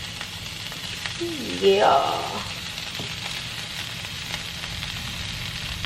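Broccoli hits a hot skillet for a teriyaki chicken and shrimp stir-fry, raising a brief burst of sizzling that quickly settles to a low steady fry, with a short spoken word nearby.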